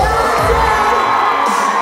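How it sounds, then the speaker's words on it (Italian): Live concert crowd at the Palapartenope cheering and shouting loudly, a dense wash of voices and whoops without pause for the whole stretch. "L'applauso!"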